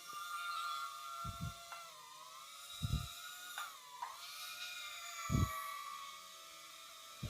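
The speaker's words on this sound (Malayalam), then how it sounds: "ഇതാണ് നമ്മുടെ കയ്യിലുള്ള ഡ്രോൺ എന്ന് പറയുന്നത്" A small toy drone hovers close by, its high, thin propeller whine holding steady with slight pitch dips as it maneuvers, alongside a few brief low thumps.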